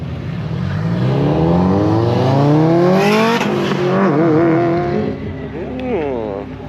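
A Subaru STI's engine revs and accelerates up through the gears at a car meet, loud and close, with brief voices underneath.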